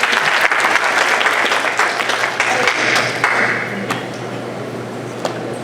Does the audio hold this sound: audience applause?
yes